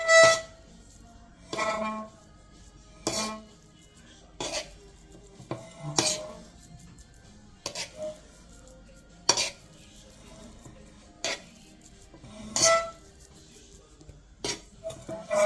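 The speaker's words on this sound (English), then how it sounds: "I actually got a knife that will help me lift the edges" A knife scrapes and clinks against a pan while lifting the edges of a four-ingredient no-bake cake. The strokes come as irregular, close, sharp taps and rasps with quiet gaps between them, and no one talks.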